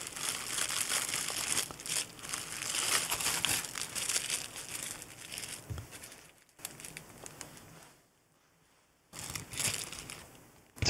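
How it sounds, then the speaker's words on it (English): Cellophane crinkles and rattles in steady, rustling bursts at moderate loudness close by, pausing briefly into near silence before one more crackling burst. "It's a good thing your cat doesn't hear that cellophane rattling."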